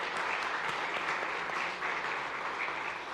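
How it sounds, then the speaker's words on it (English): Sustained audience applause at an event honouring innovative farmers, a dense, steady clapping from a crowd that fills the room and holds at an even level throughout, with no talking. "So once again, a huge round of applause for all of them."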